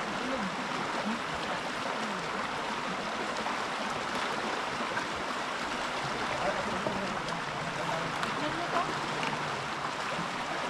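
A strong river current rushes in a steady, broad wash of flowing water, loud and continuous throughout, with faint voices partly under it.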